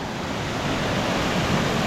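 Water pours through a two-channel gorge at Poe Valley State Park, heard from a few metres above as a steady, loud, broadband rush that never lets up.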